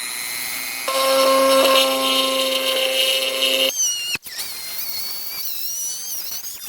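A step drill bit boring a hole in the plastic airbox of a 2006 Suzuki GSX-R600/750 motorcycle: a steady high whining drill tone for a few seconds, then a squealing bite into the plastic with shifting pitch, close and loud.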